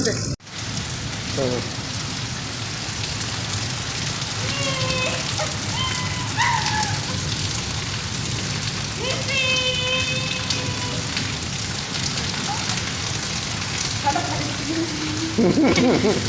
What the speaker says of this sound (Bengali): আজকে বৃষ্টির পানি দেখে এত সুন্দর বৃষ্টি এত সুন্দর বৃষ্টি